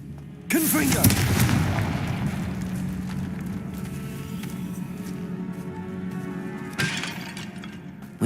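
A Confringo fire spell bursts in Hogwarts Legacy inside a tomb, a loud explosive boom at the start that rumbles and crackles down into a sustained low roar, with a second sharp hit near the end.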